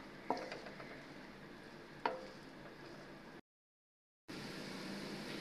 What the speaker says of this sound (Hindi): इसमें कुकिंग ऑयल में हम प्याज शामिल कर देंगे।